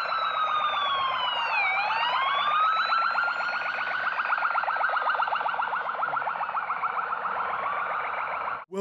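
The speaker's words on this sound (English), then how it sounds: "now the ambulance is coming to get Gark to the hospital." An ambulance siren in an animated Minecraft-style villager news skit wails loudly and continuously, rising and falling in pitch with a rapid pulsing warble, ending abruptly.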